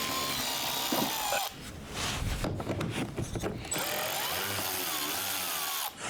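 A brand-new brushless power tool runs in bursts during a xenon headlight replacement on a car, its high motor whine broken by a gritty, louder stretch in the middle and brief pauses between pulls of the trigger.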